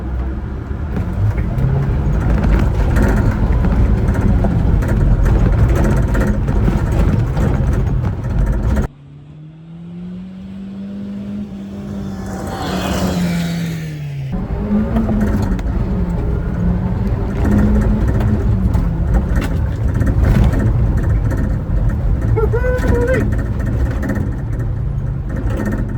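A Subaru Sambar mini truck engine drones loudly as it crawls over bumpy tracks, dipping into a quieter whining stretch midway before the rough, rumbling drive resumes, close and steady.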